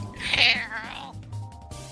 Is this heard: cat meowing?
yes